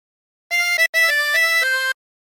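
A phrase of the Italian song Bella Ciao played on a chromatic harmonica, about a dozen clear sustained notes in quick succession, loud and close, with no talking.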